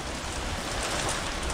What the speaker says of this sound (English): Look at that rain. Yo, it's blowing rain.